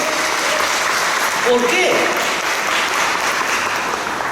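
A church congregation claps steadily during a sermon while a voice speaks briefly in Spanish over the applause.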